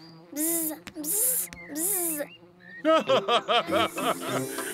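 Cartoon characters from Peppa Pig imitate buzzing bees with their voices: a run of drawn-out buzzes, then a quick series of short, choppy buzzing bursts, close and clear.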